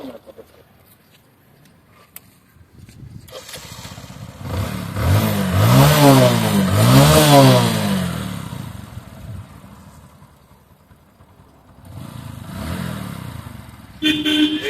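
A used Bajaj Discover motorcycle engine idles, then revs up twice in rising surges before settling back, with a shorter rev later; nearby voices talk around it.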